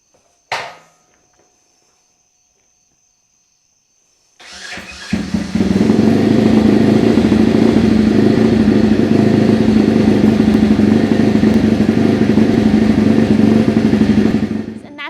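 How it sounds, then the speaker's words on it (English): A newly assembled 2021 Orion RXB 150XL dirt bike, choked and fuel-primed, starts on the electric starter after a faint click, then settles into a loud, steady, close-up idle that runs to the end. "we are going to prime the fuel, choke the carb, turn on the ignition, and then we're going to hold either the front or rear brake in order to complete the starter circuit"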